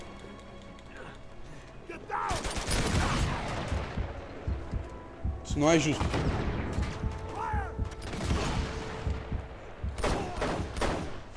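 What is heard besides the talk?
gunfire in video game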